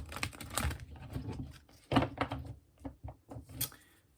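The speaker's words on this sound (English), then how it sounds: "One more shuffle" Quick bursts of papery riffling and flicking as a deck of tarot cards is shuffled, close by, with short pauses between the bursts.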